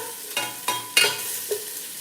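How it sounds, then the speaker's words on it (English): Food frying in a pan at home, stirred four times with a utensil, each stir a short scrape and clatter over a soft steady sizzle. "Let me stir my stuff here."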